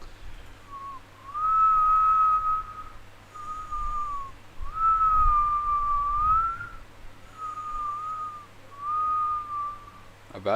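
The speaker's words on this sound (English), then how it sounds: "Didn't mean to whistle." A person whistles a slow, wavering melody in several long, clear phrases separated by short pauses, close and alone over a faint low hum.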